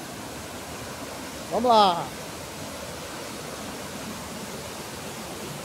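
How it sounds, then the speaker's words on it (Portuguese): Cachoeira do Antonico pours with a steady, unbroken roar of falling water, continuous throughout, while a voice speaks briefly near the start. "A Cachoeira do Otonico, viu? Olha eu chegando."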